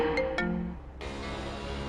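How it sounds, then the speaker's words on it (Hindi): A phone rings with an incoming call: a few bright electronic ringtone tones, close and clear, followed by a steadier background hum. "तभी ज्योति बुआ की बेटी प्रीति का फोन आया।"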